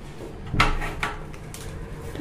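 A household door being opened during a move into a house, heard as a couple of close wooden knocks and clunks followed by a softer rattle, with no talking.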